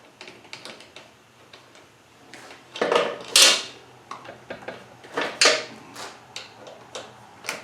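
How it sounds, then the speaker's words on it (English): Two bolts being undone on a Honda mower engine that runs poorly after a service: sparse clicks and metallic ratchet-like taps, with a few louder clanks partway through, close and fairly quiet. "So we'll undo these 2 screws here."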